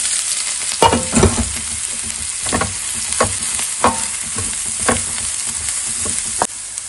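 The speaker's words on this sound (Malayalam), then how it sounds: "കടുക് പൊട്ടി കഴിയുമ്പോൾ നമുക്ക് ഈ തേങ്ങാക്കൂട്ട് ഇട്ടിളക്കാം." Coconut paste is stirred into hot coconut oil with popped mustard seeds, making a constant bright sizzle punctuated by regular spatula scrapes and knocks against the pan, close and fairly loud, with no talking.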